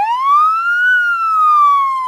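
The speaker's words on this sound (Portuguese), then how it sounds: "O som da ambulância é o aviso da chegada de mais um caso de emergência." Ambulance siren pulling into a hospital emergency room in Curitiba, Brazil: one loud, clear wailing tone that rises and falls slowly, close by and heard on its own.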